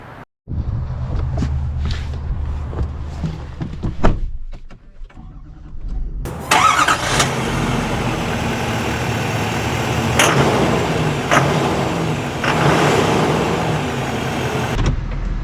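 A heavy-duty Duramax diesel pickup truck cranks over and settles into a steady, loud, close rumbling idle that carries on alone for the rest of the stretch.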